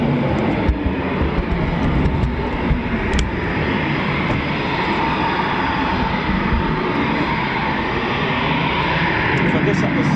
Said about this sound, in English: Push down, get the Typhoon to brake,